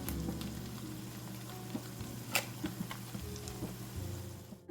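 Dried fish with chili powder fries in an oily pan, a soft steady sizzle with occasional light scrapes and taps as it is stirred, quiet and close.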